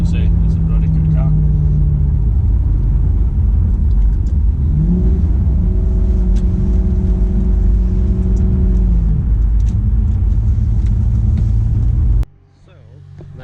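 A first-model 2008 Maserati GranTurismo 4.2 on the move, with a steady loud engine rumble and a rising rev partway through, ending abruptly; someone talks over it throughout.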